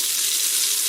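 Meat browning in a Breville slow cook steamer gives a steady, close hiss of frying that fills the short moment without a break.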